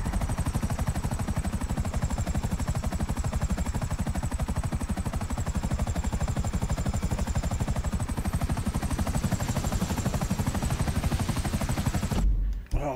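A helicopter flies in Grand Theft Auto V, its rotor chopping in a fast, even pulse under a loud, constant engine whine for the whole stretch, ending with an abrupt cut near the close; no one speaks.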